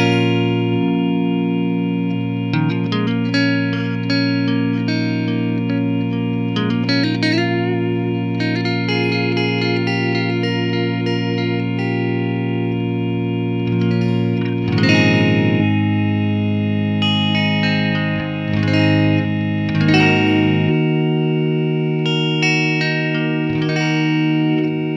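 A guitar drone held in a long frozen sustain by an Electro-Harmonix Deep Freeze pedal while new notes and chords ring over it, washed in effects, continuous for the whole stretch.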